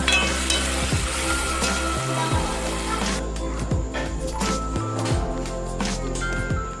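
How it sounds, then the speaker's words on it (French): Tomato added to a pan of onions, chili and bell pepper sizzles and fries steadily up close, with occasional stirring scrapes and no talking. "je vais ajouter la tomate à l'intérieur et puis je vais laisser sécher"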